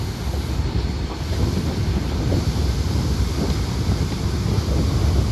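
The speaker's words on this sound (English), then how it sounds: "Good view of the train up front, the diesel pulling the 8 carriages." A diesel-hauled Caledonian Sleeper train of eight carriages pulls out of Pitlochry station, heard as a continuous low rumble and rolling noise mixed with heavy wind buffeting, with no talking.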